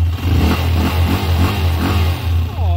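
A Honda TMX125 Alpha motorcycle engine converted to 200cc revs up close by, with a loud, steady rumble and several rhythmic throttle surges and dips, plus a faint whine near the end.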